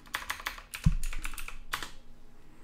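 Rapid typing on a computer keyboard: a close, crisp run of keystrokes with uneven rhythm and a few heavier key presses, with no talking.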